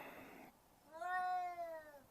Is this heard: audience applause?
no